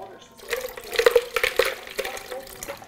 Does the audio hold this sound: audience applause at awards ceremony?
no